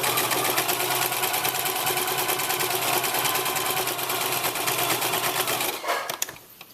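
A sewing machine stitches across the folded fabric casing of a treat bag, a steady fast mechanical whirr that runs loud and continuous for nearly six seconds before stopping with a few faint clicks.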